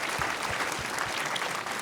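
Short burst of dense audience applause at a live talk-show taping in Hollywood, a steady wash of many hands clapping at close range.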